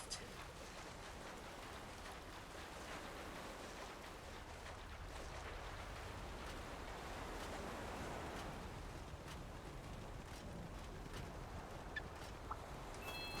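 A bird in Monster Hunter Rise flaps off amid a turkey-like gobbling call, heard over a steady wash of game ambience and low rumble, fairly constant and moderately loud throughout.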